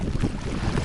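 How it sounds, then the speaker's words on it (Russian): Wind gusting across open water on a cold northern taiga river or lake, a steady, close roar of buffeting wind with low rumbling and splashing, running alone without any talk for a brief moment. "Ветер изменился в мою сторону"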